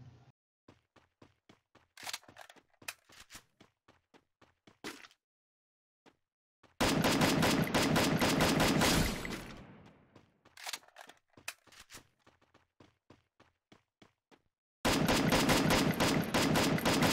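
Rapid bursts of Free Fire gunfire, with scattered single shots and two long sustained stretches of loud automatic fire.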